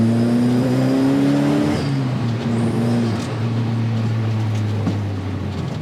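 A Dallara Stradale carbon fiber street-legal track car with a 400hp engine and manual gearbox drives over a bumpy road, a loud, steady engine drone that eases slightly partway through, with faint thumps from the surface.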